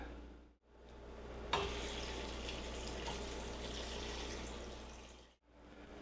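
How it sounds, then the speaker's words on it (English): About six cups of water pour into a pot of beans for baked beans, a steady rushing stream running for several seconds, faint and close, starting abruptly and cutting off, with no talk. "That was about 6 cups of water"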